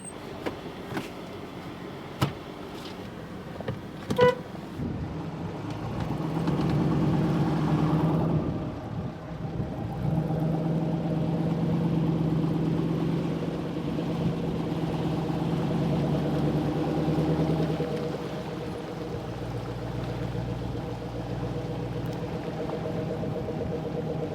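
A Hummer with a broken drive line is driven with its engine running. A low, steady rumble swells in the middle and then eases back, after a few sharp knocks at the start.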